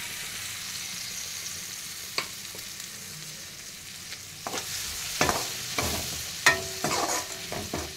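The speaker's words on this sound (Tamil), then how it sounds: "இப்போ மிக்சியில் அரைச்சி வச்சு 2 தக்காளி போட்டுறேன்." Ground tomato is added to masala frying in oil in a pan for an egg masala curry, giving a steady loud sizzle with scraping stirs and clatters of the spoon growing busier toward the end.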